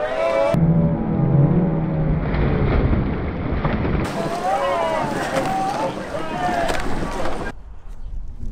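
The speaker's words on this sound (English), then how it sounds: "the very windy start line" Strong wind sweeps across the start line of a national schools rowing regatta, giving a low, gusty rumble and buffeting against the microphone under a voice, then briefly falls quieter at the end.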